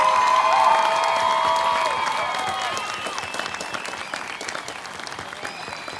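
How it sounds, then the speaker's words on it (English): Sustained audience applause at a 2019 promotion ceremony, a dense wash of clapping that starts loud and slowly fades, with a few scattered cheers and shouts mixed in. "Let's have one more huge round of applause for all of our promotees."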